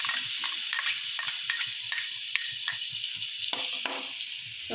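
Ginger-garlic paste frying in oil in a pan for a soya fry, with a steady close sizzle, bright crackle and repeated soft stirring scrapes throughout, without any talk.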